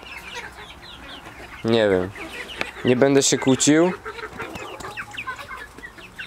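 Chickens and young roosters clucking and squawking close by, with a few loud harmonic calls in the middle amid a steady background of smaller clucks and peeps, while someone talks in Polish over them.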